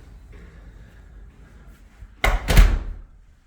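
A house's front door is pushed shut with a single solid thump, followed by a second louder knock a moment later, heard close in a quiet entry room.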